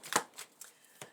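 Tarot cards are shuffled by hand in a few quick, crisp riffling bursts with brief pauses between them, close and fairly quiet, with no voices.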